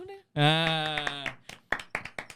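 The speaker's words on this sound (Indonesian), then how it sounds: "Ini kita kasih tepuk." A drawn-out vocal tone gives way to a handful of crisp, close hand claps in an indoor esports podcast setting, spaced irregularly toward the end.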